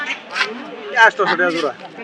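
Domestic ducks quack in short nasal bursts close by at a duck and hen market, mixed with busy voices of people talking.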